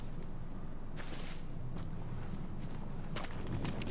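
Footsteps crunch over skeletons in Bloodborne The Old Hunters on PS4: a few brittle, crackling steps stand out over a low, steady game ambience at a moderate level, with no talking.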